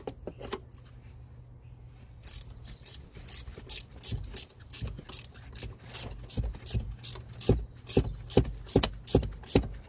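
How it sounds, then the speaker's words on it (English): A ratchet clicks rapidly in repeated bursts while turning a 16mm nut during front coil spring replacement on a Peugeot 207, the strokes growing louder and more regular toward the end, close by with no talking. "this is a 16mm nut which we need to remove, and we're using a ratchet"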